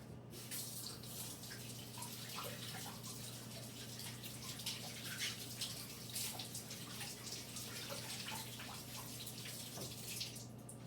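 Peeled parsnips are rinsed under a running kitchen tap, the water hissing and splashing steadily and close for the whole stretch with no talking.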